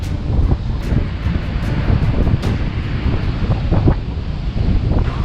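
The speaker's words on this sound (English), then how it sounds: "Look at them waves." Loud surf and gusting wind batter the microphone on a Bahamas shoreline ahead of Hurricane Dorian, a steady roar of breaking waves with rumbling buffeting throughout and no voices.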